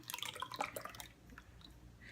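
Homemade Italian dressing pours through a funnel into a big jar, a wet, splashy glugging stream with dripping that fills about two seconds, close and fairly loud, with no talking.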